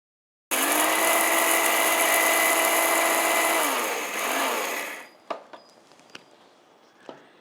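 An electric mixer grinder whirs loudly for about four seconds while grinding roasted spices for bisibelebath masala, its pitch dipping briefly as it winds down, then stops, followed by a few light knocks and clicks of the jar.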